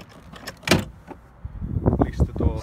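Trim panel popping pliers pry a car's interior door card loose, giving a sharp plastic pop followed by a cluster of clicks and creaks from the door panel, close up and moderately loud.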